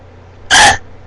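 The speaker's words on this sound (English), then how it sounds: "I have hiccups right now." A single sharp, painful hiccup from a person, loud and close, a short throaty gulp lasting about a quarter second against near silence.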